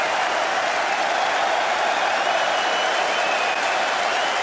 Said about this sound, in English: Oh, look at the applause.